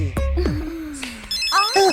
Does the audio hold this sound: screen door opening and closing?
no